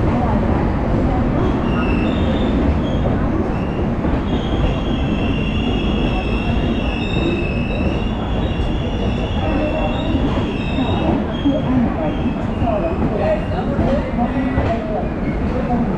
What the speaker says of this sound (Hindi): अब हम लोग पहुंच चुके हैं इस ट्रेन का 17वां हॉल्ट अकोला रेलवे स्टेशन